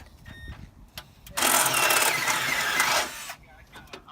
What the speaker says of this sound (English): So we're drilling out spot welds for radiator support